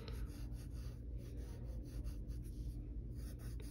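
A pen or pencil drawing a vertical oval on paper, close and quiet scratching strokes that repeat in a steady rhythm over faint room noise.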